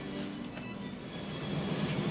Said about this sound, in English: I don't know if you can hear the rain, but it's absolutely pouring outside.